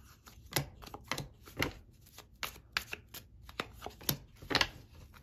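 A deck of tarot cards is shuffled up close, producing a quick run of crisp riffling slaps and flutters in uneven bursts, with no talking.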